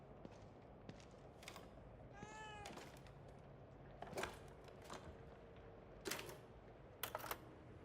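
A cat meows in the survival horror game The Evil Within 2, a short rising call among sparse clicks, taps and soft game ambience, with occasional sharper clatters and no speech.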